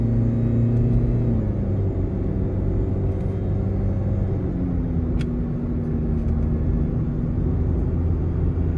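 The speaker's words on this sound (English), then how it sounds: "Now the CVT is relatively loud. It's just giving a little whine off there" Steady CVT transmission whine from a 2012 Scion iQ at 67,000 miles while driving, a sustained tone that shifts pitch over low road rumble and engine drone, continuous and fairly loud inside the cabin.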